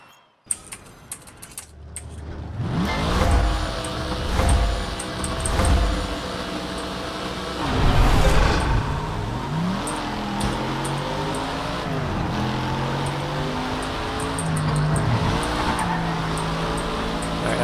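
A race car in Project Cars 3 revs up from near silence, then drives with engine roar rising and falling through gear changes and braking, tire squeal and skidding mixed in, loud and continuous after the first couple of seconds.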